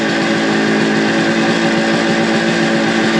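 A Suzuki two-stroke motorcycle engine idles steadily up close after carburetor cleaning, a continuous buzzy, sputtering drone with no revving and no voices.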